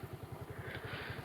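A Hero scooter idling just after a self-start, its engine ticking over in a steady, rapid low throb close by, with no talking.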